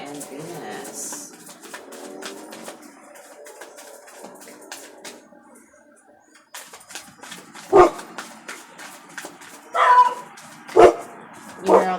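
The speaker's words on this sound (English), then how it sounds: "You hear all the dogs are barking." Several dogs barking in the distance, with scattered yaps and a few louder bursts near the end, beneath a person talking for much of the stretch.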